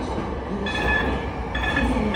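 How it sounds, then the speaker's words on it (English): A new two-car Siemens light rail train on the M line, westbound to Balboa Park Station, rumbles steadily nearby, with a faint electric whine rising and falling over the continuous rolling noise. "we got new two cars, Siemens train and westbound to Balboa Park Station."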